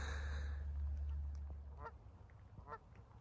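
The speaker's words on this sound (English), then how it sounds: "got the 2 geese here swimming in the river" Two geese swimming on a river give a couple of short, distinct honks over a steady low rumble of wind and water, fairly close and with no voices.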